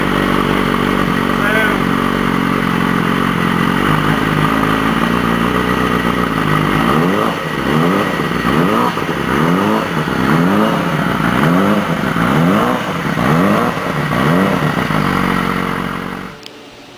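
A BMW S1000RR sport motorcycle engine with a TaylorMade Racing exhaust turns over and catches, then revs repeatedly in rising and falling bursts, loud and close, ending abruptly.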